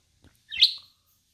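A pet bird gives a single close, bright chirp that sweeps upward and fades, preceded by a faint soft click, with quiet surroundings and no voices.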